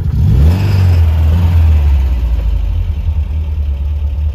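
A 1965 MGB with its small 1800 four-cylinder engine revs up loudly, the pitch climbing and then settling into a steady, throaty idle close to the microphone, with no voices over it.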